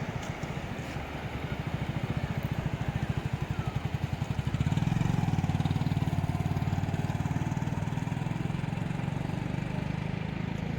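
A motorbike ridden on the sand at Mandarmani beach: its engine chugs steadily close by, then revs a little louder and fuller partway through and holds that pitch.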